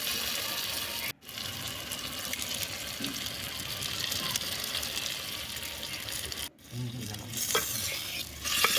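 Marinated chicken sizzling in a frying pan with tomato for a dhaba-style spinach chicken dish, steady close frying hiss with stirring scrapes, broken by two brief dropouts.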